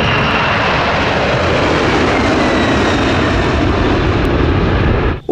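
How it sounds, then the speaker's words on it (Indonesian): Loud, continuous roar of a large cargo airplane's engines, steady and close throughout before cutting off abruptly at the end. "Ini pesawat terbang kargo."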